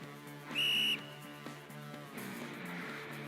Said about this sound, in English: With a violent, loud blow of his whistle, the coach also takes his position to show the proper technique.